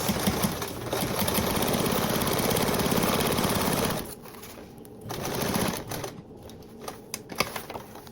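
A sewing machine bastes a tote bag seam at an 1/8 seam allowance, a fast, even mechanical whir for about four seconds, then a shorter burst, with fabric handling clicks and rustles around it.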